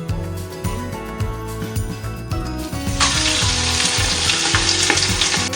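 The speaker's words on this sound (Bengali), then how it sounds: "ঘি আর তেলের মধ্যেই আমি একটু আদা কুচি, কটা গোলমরিচ, 2 শুকনো লঙ্কা আর তেজপাতা আর গরম মশলা ফোড়ন দেব।" Ginger, peppercorns, dried chillies and bay leaf sputtering in hot ghee and oil, a close, loud crackling sizzle with scattered pops and clinks that swells into a dense, steady hiss partway through, with no talking.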